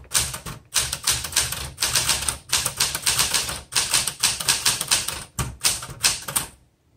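Rapid, irregular keystrikes on a 1974 Smith Corona Classic 12 manual typewriter with a red ribbon, a close, loud clatter of typebars in bursts with brief pauses, ending in quiet.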